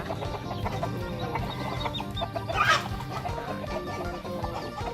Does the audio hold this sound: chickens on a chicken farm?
yes